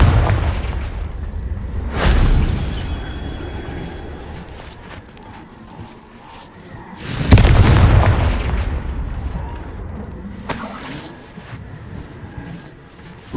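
Three sharp explosive blasts from the Confringo fire spell in the Hogwarts Legacy video game, each a sudden loud boom with a short decaying rumble, spaced a few seconds apart.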